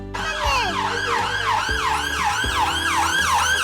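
An ambulance siren on an emergency call wails loud and close, its rising and falling tone sweeping steadily for the whole stretch over low road rumble.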